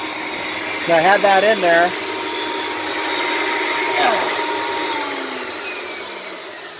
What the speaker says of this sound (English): Let me turn off the vacuum cleaner.